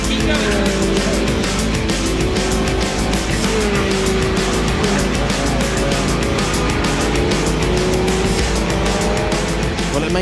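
A Lotus Elise race car on its final lap of an Elise Trophy circuit race, its engine droning loud and close with steady high revs, tyre squeal and other cars running alongside throughout.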